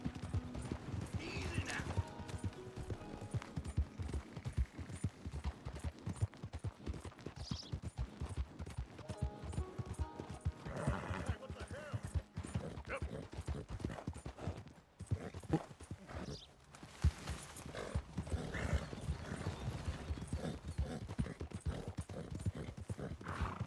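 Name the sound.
horse galloping and neighing in a video game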